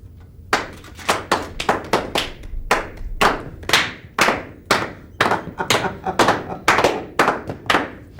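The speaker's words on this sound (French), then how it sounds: "Vous allez applaudir maintenant." Several people clap their hands in a loose rhythm, the sharp, close claps coming in uneven bursts and clusters with short pauses between them, against a quiet background.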